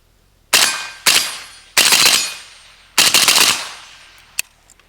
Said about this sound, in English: this rifle shoots pretty flat, pretty soft, just as you would expect on a crink